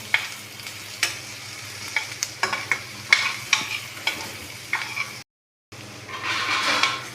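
Lentil masala for a dhaba-style moong and masoor dal roasting in a pan on a low gas flame, with a steady close sizzle and repeated scraping strokes of a spoon stirring, then a brief dropout before a louder, thicker fry.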